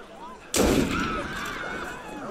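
A gunshot in the video game Assassin's Creed Unity: one loud, sudden blast that cuts in sharply, then a long rumbling reverberant tail fading slowly over the next two seconds.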